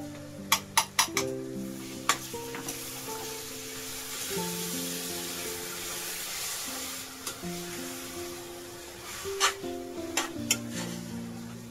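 Tomato paste sizzling with fried onion in a pan while cooking chicken bhuna, a steady frying hiss with a few sharp utensil clinks against the pan and background music underneath.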